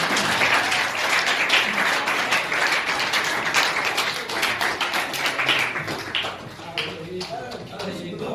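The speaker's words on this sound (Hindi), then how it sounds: "जोरदार तालियों के साथ स्वागत कर रहे हैं।" A school audience claps hard at a Class 12 farewell ceremony. The dense applause slowly fades into scattered claps as a voice comes in toward the end.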